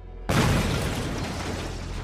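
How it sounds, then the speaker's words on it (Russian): Powerful explosion in a flower shop at Las Palmas airport on Gran Canaria: a single sudden loud blast after brief quiet, followed by a sustained rumbling roar that slowly fades. "в цветочном магазине аэропорта раздается мощный взрыв"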